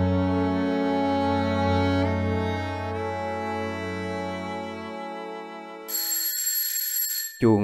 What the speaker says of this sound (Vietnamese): Chuông báo thức điện thoại vang lên, Tú là người đầu tiên tỉnh dậy.